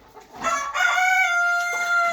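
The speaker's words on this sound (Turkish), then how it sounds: "Türken horozum ötüyor gene." A rooster crows once in a long, loud, strained call that holds for nearly two seconds, close by.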